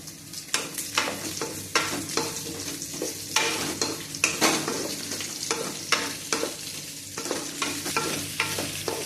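Steady sizzling of radish frying in a pan for sambar, with repeated scraping and stirring strokes at an uneven rhythm, close and moderately loud, no talking.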